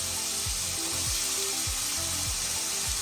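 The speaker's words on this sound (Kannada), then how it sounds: "ಹಿಂಗೆ ಸಾಫ್ಟ್ ಆದ್ಮೇಲೆ ನಾವು ಕಟ್ ಮಾಡಿಟ್ಕೊಂಡು ತರಕಾರಿ ಹಾಕಬೇಕು." Cut vegetables frying over a high flame in a pan for mixed vegetable kurma, with a steady close sizzle broken by regular soft thuds of stirring, no voices.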